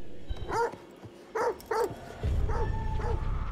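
A dog in The Devil In Me video game gives four or five sharp barks in an uneven rhythm, close and clear, while a low rumbling game ambience swells beneath the later barks.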